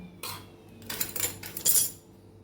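Spoon clinking against a bowl while sliced onion is stirred with groundnut oil, red chili powder and a pinch of salt for Bengali jhal muri, a few quick scraping clinks close by.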